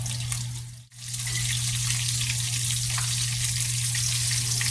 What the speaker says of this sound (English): Let's drop these guys in. And you're going to want to give these bad boys a sear for 2 minutes on each side.